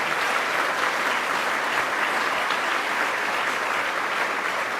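An audience applauds Mayor Byron Brown at a governor's state budget event, steady dense clapping from a large crowd sustained throughout with no pauses.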